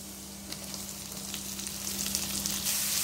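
Chopped onions sauté in a hot pan for a wheat-flour paneer samosa filling, giving a steady close sizzle and crackle that swells slightly louder toward the end, with no talking.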